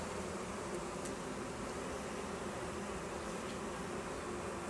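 Honeybees at a busy beehive, a dense steady buzz of many wings humming continuously at a soft, close level with no voices.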